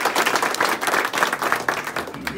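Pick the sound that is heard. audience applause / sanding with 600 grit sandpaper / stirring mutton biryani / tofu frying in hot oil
audience applause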